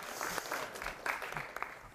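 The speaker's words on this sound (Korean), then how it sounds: "박수 한번 해주시죠" Lecture audience in Korea claps for an audience member who answered correctly, a short round of moderately loud clapping with scattered individual claps standing out.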